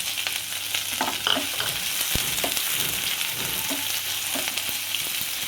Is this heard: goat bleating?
no